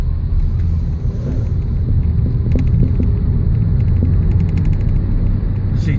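A 2011 Ford Fiesta 1.4 automatic pulls away and gains speed, its engine a low, steady rumble from inside the cabin with some wind and road noise and faint ticks and rattles.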